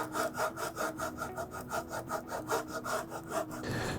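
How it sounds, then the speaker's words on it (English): Sanding a cured epoxy surface on a rebuilt window ledge of an antique door, a steady rhythmic back-and-forth scratching of about a dozen close strokes, ending abruptly. "Now I'll just need to come in and do a little bit of sanding on the surface to smooth everything off again."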